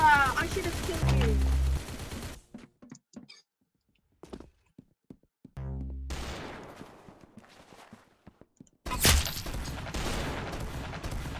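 Gunfire in the Roblox-style shooter Arsenal, with bursts of shots and a pump shotgun blast at the start, a quiet gap, then more rapid fire returning loudly, with voices talking over parts of it.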